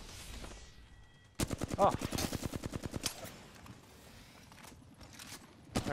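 Rapid automatic gunfire in the battle royale game Apex Legends, a fast regular burst of shots lasting over a second, with players talking over the scattered in-game noise around it.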